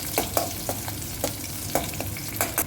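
Curry leaves, green chili, ginger and garlic sizzle in hot oil with a steady crackle. Sharp pops and spatters come at irregular intervals, close and fairly loud, with no talking.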